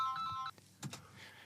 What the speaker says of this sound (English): We'll just take a short break, folks, while we answer that phone.